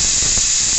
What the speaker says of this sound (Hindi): देखिए सीटी बज चुकी है,